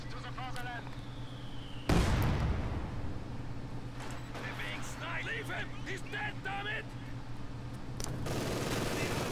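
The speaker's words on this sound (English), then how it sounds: "Wow, took a surprising amount of damage from that MG42 given the range, but it is returning fire." Video game MG42 machine gun firing at range, with rapid chattering bursts and a sharp report against constant battle noise and a steady low hum, while someone talks over much of it.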